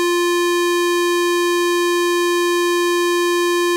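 A Studiologic Sledge synthesizer holds a bright, buzzy pulse-wave tone at one steady pitch, loud and unbroken, rich in harmonics, its timbre subtly shifting from sine-LFO pulse width modulation.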